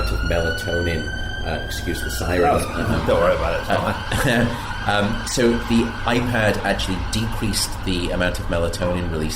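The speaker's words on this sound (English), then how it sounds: "excuse the sirens" Emergency sirens wail continuously in the background while a person talks over them at close range.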